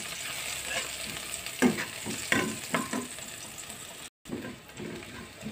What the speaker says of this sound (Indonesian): Ini kita tumis sampai harum.